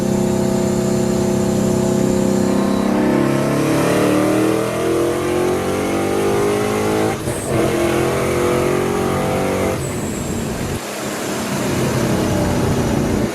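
Rebuilt boosted second-generation Ford Mustang engine accelerating hard in third gear, a loud, rising mid-pitched roar that climbs over several seconds, drops briefly at a shift, then pulls again, heard from inside the car with no talk.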